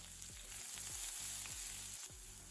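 Chopped onion sizzles and crackles in hot oil, with several soft scraping stirs of a spoon against the pan at a regular pace.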